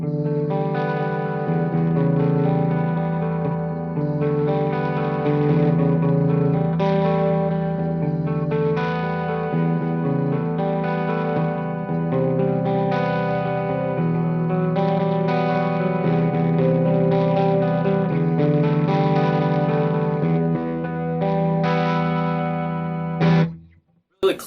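A 2014 G&L Fallout electric guitar with a humbucker pickup, picked cleanly in a continuous run of distinct, ringing notes with light effects, fairly loud and alone, stopping abruptly at the end.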